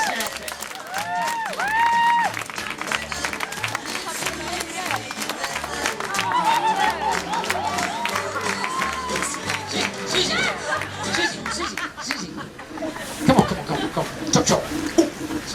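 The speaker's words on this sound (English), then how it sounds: "Let's have a big clap for our little sheep." An audience at a sheep show claps and murmurs for a South Down ewe, with scattered applause and crowd chatter under someone speaking over the top, plus light rhythmic bumps in the background.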